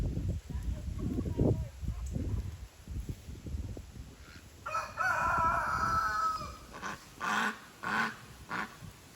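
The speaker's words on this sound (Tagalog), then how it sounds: "see all the chickens" Chickens cluck in short bursts near a garden outside a house, and a rooster crows several times in close succession partway through, at moderate volume.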